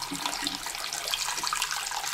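Warm water runs from a tap into a sink, a steady close splashing rush with no talk over it, used for wet sanding a model starship hull with 320 grit paper.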